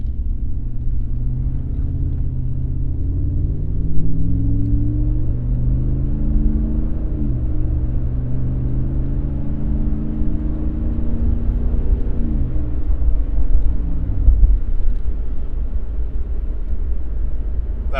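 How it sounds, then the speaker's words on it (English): A Ram 1500 pickup with a Borla S-Type exhaust accelerates moderately to about 50 mph, its deep exhaust rumble steady and loud as the engine note climbs through several gear shifts, with no talking. "Here I'll try a moderate acceleration to 50."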